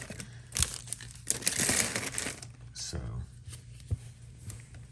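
Packs from a Donruss baseball card blaster box ripped and unwrapped close up, a loud sustained crinkling of foil wrappers in bursts with softer rustles and a few sharp crackles.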